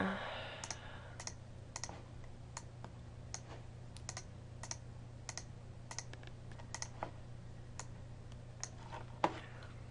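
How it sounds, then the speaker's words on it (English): Mouse clicks on a computer while selecting decompiled files, a series of crisp, faint, evenly spaced single clicks over a low steady hum, with one louder click near the end. "You want to control click on every single one like this."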